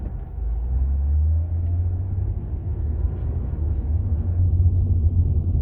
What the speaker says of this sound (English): this car is a slow rumble